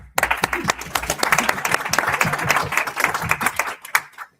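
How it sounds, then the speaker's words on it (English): Audience applause breaks out at a conference on global issues as a sports specialist is introduced, a dense burst of many hands clapping that holds steady for several seconds, then thins and fades out. "give him a big applause"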